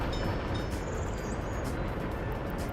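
A freight train in the video game Workers and Resources, hauling boards for export, gives a steady, dense rumble with a faint high squeal that lasts throughout, with no voices.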